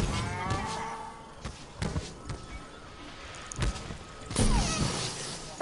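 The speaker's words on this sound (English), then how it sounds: "Wait, give me my cow back." A cow moos in the Fortnite video game, heard in creative mode as a few separate low calls with scattered game thumps and effects around them.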